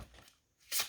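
A short, crisp burst of tarot cards being shuffled hand over hand, close and fairly loud, coming after a moment of near silence.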